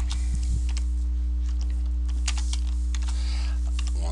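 Close computer keyboard typing, a string of irregular crisp key clicks over a constant low electrical hum.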